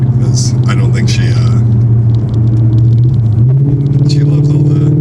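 Supercharged Ford Mustang GT on winding roads, heard from inside: a loud, steady low engine drone that dips briefly then climbs in pitch as the car accelerates, with people talking over it.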